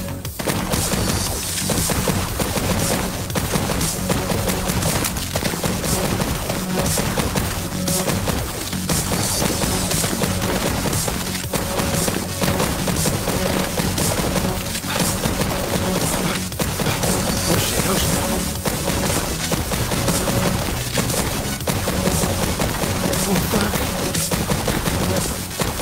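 Continuous rapid pistol shots and impacts in the VR rhythm shooter Pistol Whip on hard mode, dense and loud over driving music throughout, with regular beat-like bangs.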